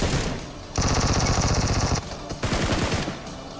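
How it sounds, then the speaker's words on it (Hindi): VSS rifle fire in PUBG: rapid bursts of close, loud gunshots in a fast even rhythm, one long burst, a short break, then a second burst, with no talk over it. "पीछे से किसी ने VSS के शॉट्स मारे थे"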